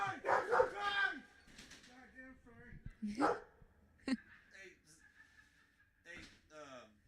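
A dog barks a few times close by amid people talking and chuckling, with short yips breaking through the chatter.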